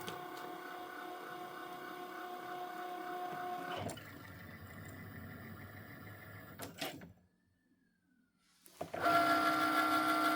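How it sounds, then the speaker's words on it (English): A Cricut cutting machine cuts out a square around a design for a wood-burn picture transfer, giving a steady mechanical whir that shifts pitch as the carriage moves, a brief near-silent pause, and then a louder resumption. "it's just cutting out the square around the entire design."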